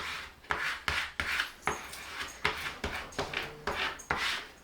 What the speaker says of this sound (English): I do squeegee it this way